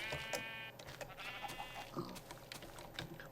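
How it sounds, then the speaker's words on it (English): Several short sheep bleats from Minecraft sound close by, one after another, over a faint soft background hum. "I don't think I'm seeing the heart particle effects on the sheep when I breed them."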